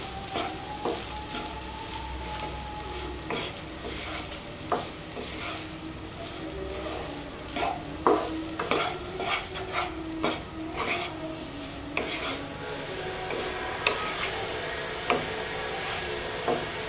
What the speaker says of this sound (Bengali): ভাতটা আমি মিশিয়ে নেব।